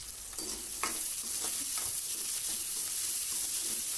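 Onion and garlic frying in a pan, a close, steady sizzle broken by several scraping stirs, with no voices.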